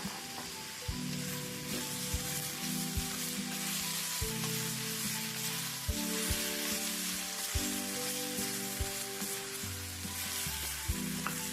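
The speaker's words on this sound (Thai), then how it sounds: "เราก็ผัดทุกอย่างค่ะ ให้สุกค่ะ" Onion and tomato stir-fried in a pan: a bright steady sizzle with periodic sharp knocks of the spatula against the pan, close and even throughout, with no speech.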